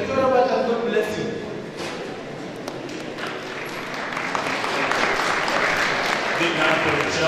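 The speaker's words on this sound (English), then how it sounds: "Let's first clap for the leaders. And then we clap for the chairman." An audience at a public lecture breaks into steady, dense applause that swells and holds for several seconds, with a voice speaking over the start of the clapping.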